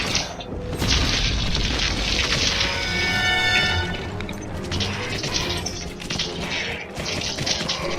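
Bombs exploding in the Gauntlet video game, heavy booming blasts layered with crashing debris and a ringing tone, loud and continuous across the clip.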